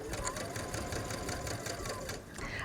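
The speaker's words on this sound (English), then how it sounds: "I'm going to stitch right down to that line" A sewing machine stitches fabric down toward a marked V-neck line under the presser foot. The motor whirs loudly and close with a steady rapid needle rhythm, then eases briefly near the end before picking back up.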